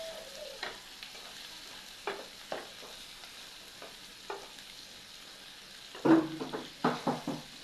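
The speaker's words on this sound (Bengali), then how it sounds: "দেখুন পেঁয়াজ টমেটো কুচি কাঁচামরিচ ভেজে নিচ্ছি" Chopped onion, tomato and green chili frying in a pan, a low sizzle under irregular spatula scrapes and taps that grow louder and more frequent toward the end, with no talking.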